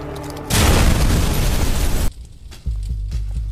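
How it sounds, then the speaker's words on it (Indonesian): A car explodes after leaking petrol is set alight, giving a sudden loud boom that roars on for about a second and a half, then drops off before a lower rumbling continues. "Benny langsung membakar bensin yang bocor tadi hingga menyebabkan mobil itu meledak."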